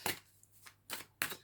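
Tarot cards being shuffled in short bursts, three quick riffling rustles separated by brief pauses, close and fairly quiet with no talking.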